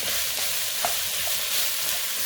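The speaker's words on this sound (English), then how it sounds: "Okay, so I'm going to add those lentils in there." Lentils tipped into a hot pot for lemon lentil soup, setting off a steady, broad sizzling hiss that runs the whole time, with a few faint soft clinks and patters near the middle.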